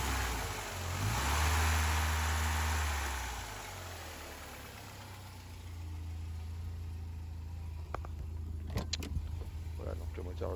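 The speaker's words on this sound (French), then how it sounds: "donc le moteur démarre correctement" A Mercedes W201 190E 2.3 runs at a smooth, steady idle after restoration work, with an even low hum close by. A louder revving swell comes early on, and light clicks and rattles follow near the end.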